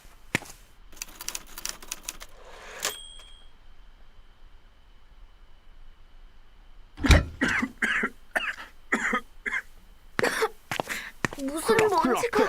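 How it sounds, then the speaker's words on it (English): A coughing sound effect from the Korean video game The Island: Into The Mist, several short harsh bursts near the start, then clattering clicks mixed with game noise. "That's coughing sound."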